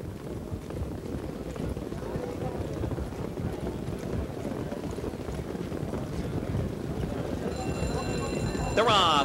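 Pacers' hooves clip-clopping as the field picks up speed before the start of a $50,000 Presidential Series harness race at the Meadowlands, a rapid continuous drumming under wind and a race announcer's voice.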